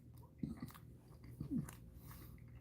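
Someone chews a cheese pizza Hot Pocket after a workout, with two close, soft bursts of biting and munching separated by a short pause.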